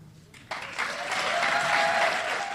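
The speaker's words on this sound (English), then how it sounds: "Thank you, everyone, for that round of applause" An audience at the Free Library breaks into a round of applause welcoming guests to a book event, the clapping starting abruptly, swelling and holding steady as a full, moderately distant wash.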